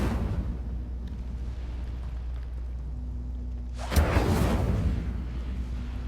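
An Incendio fire spell cast in Hogwarts Legacy bursts out partway through as a sudden loud whooshing flare over a steady low drone. The fiery rush crackles for about a second before fading back into the background hum.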